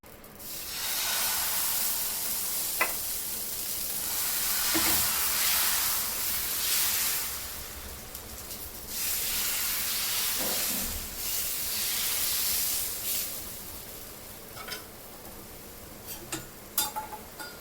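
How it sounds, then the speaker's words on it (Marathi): Dosa batter poured onto a hot, water-sprinkled pan, giving a loud, steady steam hiss that swells and fades over several long stretches, with occasional light clinks of utensils. "आता आपण डोसा टाकून घेणार आहोत"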